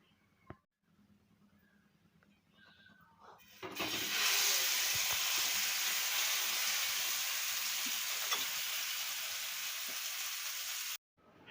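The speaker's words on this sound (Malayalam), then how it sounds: "നമുക്ക് എണ്ണ ഒഴിച്ചിട്ട് നമ്മുടെ റെസ്റ്റ് ചെയ്യാൻ വെച്ച മീൻ നമുക്ക് പൊരിച്ചെടുക്കാം." Marinated fish drops into hot oil in a pan and breaks into a loud, steady sizzle that runs for several seconds before cutting off, after a few quiet handling knocks.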